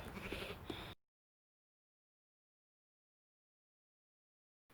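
A single close sheep bleat, loud and brief, followed by silence.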